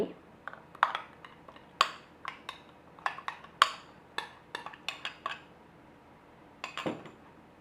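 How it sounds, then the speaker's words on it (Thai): Salt being stirred into a bread dough mixture in a bowl, heard as a series of light spoon clinks and taps against the bowl in an irregular rhythm, close and moderately quiet. "ใส่เกลือป่นลงไป คนให้เข้ากันก่อนค่ะ"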